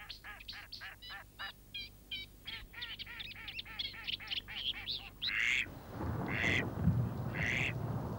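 Ducks quack in rapid repeated bursts in the Alicante marshes of Elche and Crevillente, followed by a few louder, harsher squawks from aquatic birds over a faint wetland background.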